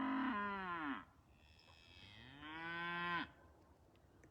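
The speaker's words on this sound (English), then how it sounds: "Cow's pretty loud this morning." A cow moos loudly twice in the morning, each long, drawn-out call close and full-throated, separated by a short quiet gap.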